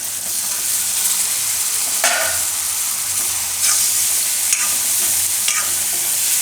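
Asafoetida and tomatoes dropped into hot oil for Gujarati lasaniya gajar sambharo, a loud continuous close sizzle with a few sharper bursts as the pieces are stirred, no voices.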